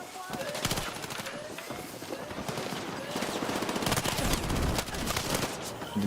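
Rapid automatic gunfire in Battlefield 6, dense bursts of shots crackling over a busy battlefield ambience, sustained and loud throughout with no talk.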